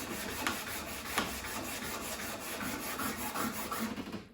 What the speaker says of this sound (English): This is my favorite sandpaper, by the way.